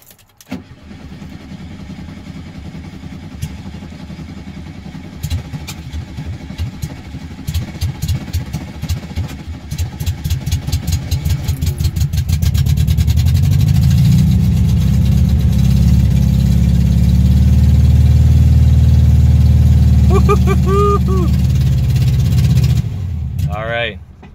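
A 1974 Volkswagen Super Beetle engine cranks and catches, then runs and idles loudly with a rough, throbbing rumble that swells and holds close by, with people talking over it.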